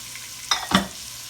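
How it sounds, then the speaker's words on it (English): Celery, onions and garlic drop into hot oil in a pot and are stirred, giving two short bursts of sizzling and scraping that then fade to a soft, steady hiss. "So I'm gonna put my celery and onions in here, and garlic. We're gonna saute all this off"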